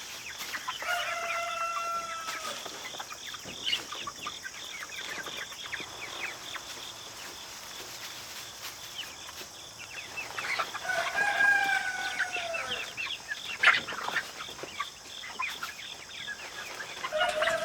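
Chickens in a damp coop cluck steadily throughout, with a rooster's crow rising twice, near and loud, amid scattered squawks and rustling; no talking.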